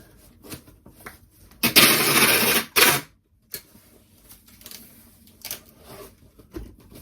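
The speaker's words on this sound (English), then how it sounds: "last time for tape noise" Packing tape is pulled off the roll in one loud, rasping screech lasting about a second, with quieter handling clicks and rustles before and after.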